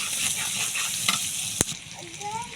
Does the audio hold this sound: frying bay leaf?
yes